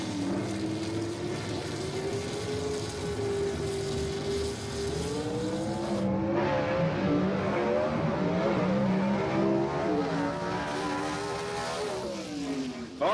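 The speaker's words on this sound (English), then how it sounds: "Car sounding like it's got a little bit of suspension issue out there." A gasser drag race car roars down a dragway, its engine note held loud and continuous, then shifting and climbing as it revs through the gears, with a distant motor drone throughout.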